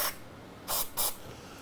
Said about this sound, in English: let's just give all the knobs a little bit of tuner cleaner